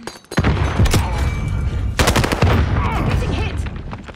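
Grenade blast and bursts of automatic gunfire in Call of Duty: Modern Warfare, a loud sharp explosion followed by repeated close rattling shots and booms over several seconds.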